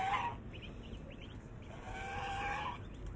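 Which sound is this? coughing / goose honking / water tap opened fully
goose honking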